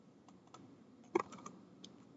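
Scattered keystrokes on a computer keyboard while code is being typed during a computer science lecture: sparse, soft clicks with one sharper cluster near the middle, faint against a quiet room.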